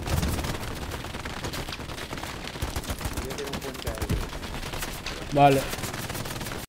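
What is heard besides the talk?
gunfire and explosions in video game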